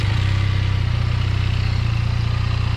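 A Harley-Davidson X 350 motorcycle engine idles steadily and close, a low, even rumble with a fast pulsing beat and no voices over it.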